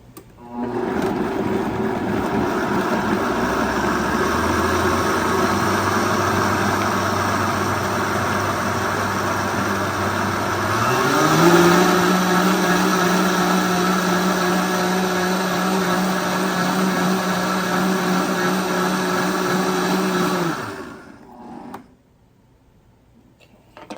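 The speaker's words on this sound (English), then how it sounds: "I got my blender and I got it half full of the tomatoes and juice, and I'm going to turn it on" A blender half full of tomatoes and juice, set up for canning tomato sauce, runs loud and steady for about twenty seconds, its motor pitch rising partway through as the contents combine, then cuts off abruptly into near silence.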